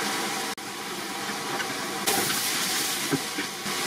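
Bell pepper sizzling and steaming in a pan on full heat, a loud continuous hissing sizzle with a brief dropout and a few sharper crackles, no voices.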